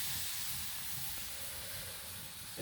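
Water poured into a hot pan of khichuri sends up a continuous broad hiss of steam, fairly quiet and steady, with no voices over it.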